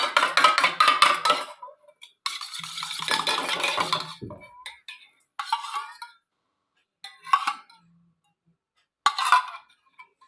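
A lemon juice mixture gets stirred in a bowl, producing several bursts of scraping and clinking from a spoon against the bowl with pauses of silence between them, close and fairly loud.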